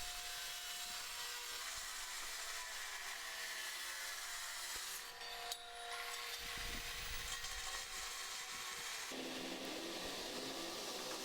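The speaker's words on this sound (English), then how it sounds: "so this is the next best thing to cut this into pieces, and it goes pretty quickly with these abrasive cutoff wheels" An abrasive cutoff wheel grinds through hardened steel from an old saw blade for a San Mai Damascus Bowie knife, a steady loud hissing whine running continuously with a brief dip partway through.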